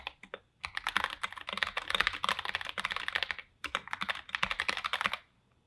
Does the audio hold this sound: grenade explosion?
no